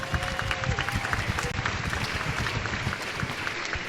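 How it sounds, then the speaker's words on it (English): Sustained audience applause fills a ceremony hall at a university pinning ceremony, dense steady clapping from a large crowd with no gaps across the whole stretch. "So let's give Jarren Small one more round of applause."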